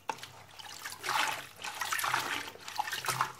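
Running water splashes and trickles over fresh mint leaves as they are rinsed, an uneven, moderately close stream with soft surges, no voices.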